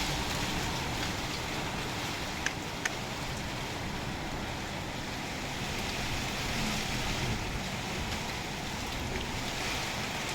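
Heavy typhoon rain pours steadily in a broad, dense wash that runs unbroken throughout, with a couple of sharp drip or tap clicks standing out briefly; no voices are heard.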